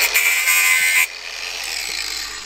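A power tool cuts through a knife blank, first as a loud, steady high-pitched whine that drops after about a second into a quieter, continuous grinding cut.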